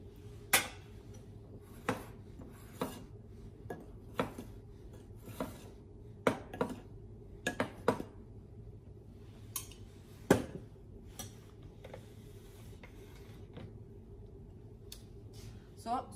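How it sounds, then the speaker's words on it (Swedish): A spoon taps and scrapes now and then in a bowl of flour, baking powder and vanilla sugar for insect brownies, with soft irregular clinks over a steady low hum. "Då blandar jag vetemjölet tillsammans med bakpulvret och"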